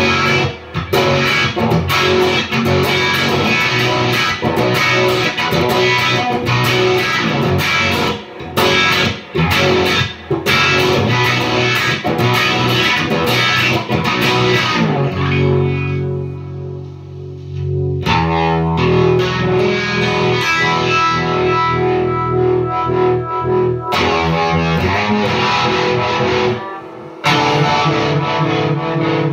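An electric guitar runs through a Lovepedal Vibronaut Photocell Vibe pedal with some gain added, playing loud, driven chords and riffs with a swirling, pulsing modulation and brief pauses between phrases.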